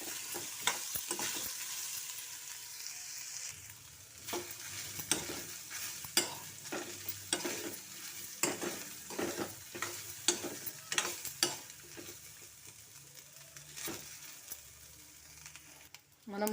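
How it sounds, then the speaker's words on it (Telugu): Tamarind fries in a pan with a continuous low sizzle, broken by frequent sharp scrapes and clacks of a spoon stirring, close and moderately loud over about sixteen seconds. "ఒక 2-3 minutes కొంచెం ఫ్రై అవ్వాలి."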